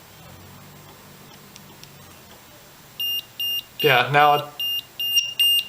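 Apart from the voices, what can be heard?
battery voltage checker beeping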